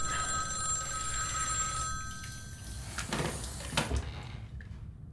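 A telephone bell rings in a steady trill for about two seconds, then stops, followed by a few soft knocks and handling noises in a quiet room.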